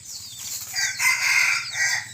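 A decoy rooster, a gamecock used as a lure at a snare trap, crows at close range across a couple of seconds, its bright drawn-out call rising and falling with no one speaking over it.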